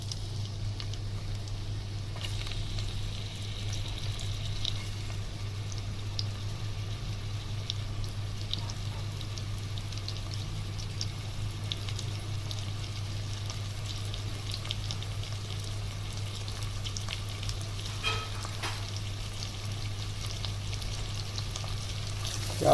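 Onions frying in a karahi on an electric stove while a Sindhi chicken namkeen karahi is prepared, giving a steady, even sizzle that runs throughout over a constant low electrical hum.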